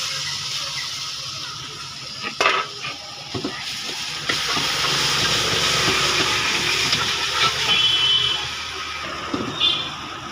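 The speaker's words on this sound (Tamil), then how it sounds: "இப்போ நம்ம வடித்து வச்சிருந்த மேகியை எடுத்து உள்ள போட்டுக்கிறோம்." Boiled Maggi noodles drop into a hot pan with vegetable masala, giving a steady frying sizzle and hiss with a few sharp clatters as they land. The sound is close and fairly loud, with no talking.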